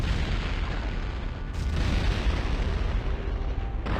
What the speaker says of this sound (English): We just gotta get far enough away from the wall so the mortars that we're launching don't explode on it